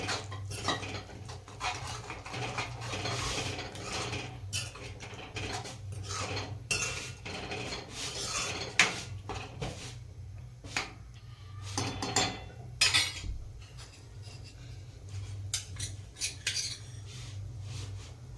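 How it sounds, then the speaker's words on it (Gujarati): Pigeon peas being mixed in a cooking pot make irregular metallic clinks and scrapes of a spoon against the pot, near and fairly quiet over a low steady hum, with no talking. "હવે આવા ટાઈમે આપણે હવે તુવેરો અંદર નાખી દઈશું તુવેરો બધું મિક્સ કરી"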